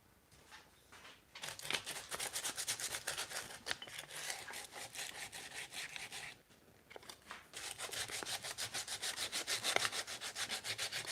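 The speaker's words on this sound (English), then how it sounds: "some sanding on this burl" Coarse sandpaper scrapes rapidly back and forth over a wood burl in steady strokes, pausing briefly midway before the rough rubbing resumes, close and loud.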